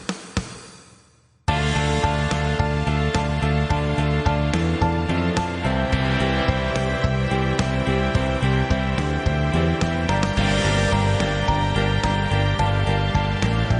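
A recorded song plays with a full, dense band mix that runs continuously and loudly after a short quieter opening, with no talking over it.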